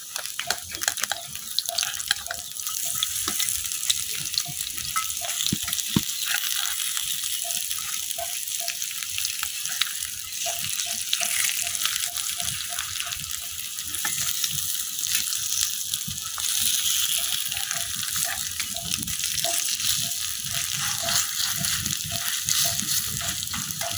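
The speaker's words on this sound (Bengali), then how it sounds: "এখন বাকি সাইডটাও আমি খুব ভালোভাবে ভাজি করে নেব।" Shrimp chops made with Chittagong small prawns fry steadily in oil, a dense continuous sizzle with light crackle and faint scraping running throughout.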